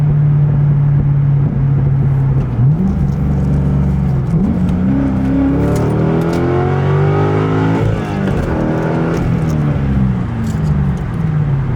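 A car engine drones steadily in sixth gear while the car is driven, loud and close from inside the cabin, its tone shifting and rising as speed changes, with no talking.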